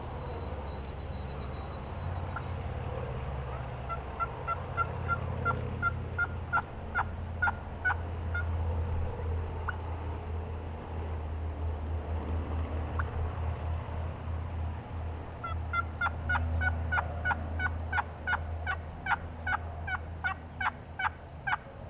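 A wild turkey hen calls in an open field with two bursts of rapid, fairly distant yelps and clucks, heard over a low steady rumble of background noise.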